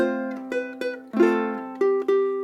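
Ukulele plays one measure of Buffalo Gals as a chord melody, a few plucked chords and single notes in a steady, unhurried rhythm, close and clear with no voices.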